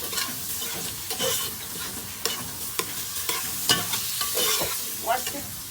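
Green papaya curry being stirred in a pot, with a steady sizzle throughout and repeated spoon scrapes and knocks against the pot at an irregular pace, close and fairly loud.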